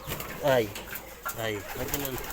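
Hungry pigeons give soft, throaty coos nearby: one rising call, then two more low rolling coos in quick succession.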